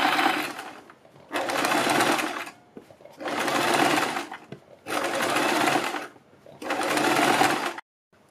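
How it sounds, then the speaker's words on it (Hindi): A sewing machine stitches around a kurti neckline beside the buckram interfacing, running in five loud bursts of steady whirring with short pauses between them. "बुकरम के बिल्कुल बराबर में पूरे गले के ऊपर सिलाई लगाएंगे।"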